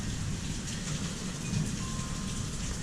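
Pea-sized hail pours down in a steady, dense hiss and patter on surfaces, unbroken and loud, with no talking.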